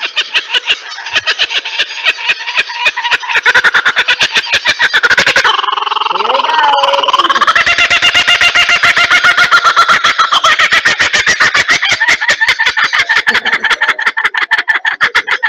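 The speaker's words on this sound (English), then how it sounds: "I'm just going to find another kookaburra laughing because that will make him laugh" A recorded kookaburra laughing call plays back loud and close, a long run of rapid pulsed cackles that rise and fall with no break.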